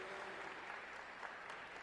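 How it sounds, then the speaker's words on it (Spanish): Applause for the Algerian delegation at a Mexico–Africa political and trade forum, a steady patter of clapping from a seated audience through the short stretch, fairly faint and even. "ese aplauso lo reiteramos para el pueblo hermano de Argelia"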